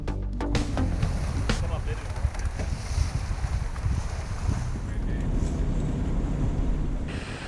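Boat moving over open sea off Hawaii's Kona coast in strong wind, buffeting gusts and engine rumble mixed with splashing waves, close and continuous.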